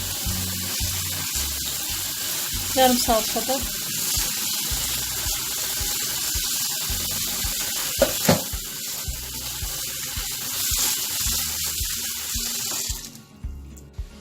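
Steady running water splashes over stinging nettle leaves, a continuous trickling stream with brief sharper splashes and a short spoken remark near the middle.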